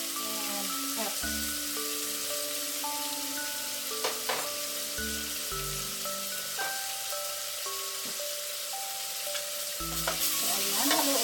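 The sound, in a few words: stirring pork frying in a pan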